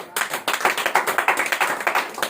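A church congregation claps together during a sermon, a dense burst of many hands with fairly steady rhythmic pulses, close and loud, with no speech over it.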